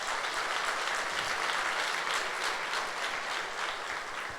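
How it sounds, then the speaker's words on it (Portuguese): Church congregation applauding during a Sunday service, a steady wash of many hands clapping throughout, fairly distant and even in level with no talk over it. "Pode aplaudir Jesus."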